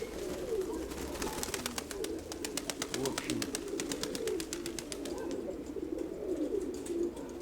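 Pigeons cooing in a low rolling murmur, with rapid flapping or clattering bursts near the start, while someone talks nearby.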